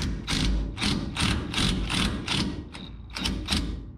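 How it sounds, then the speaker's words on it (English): Ratcheting socket wrench turning a bolt on a 1976 GMC Sierra, about eight loud, close clicking bursts in a steady rhythm with short pauses between strokes. "I put me a mark on my socket to help me count here."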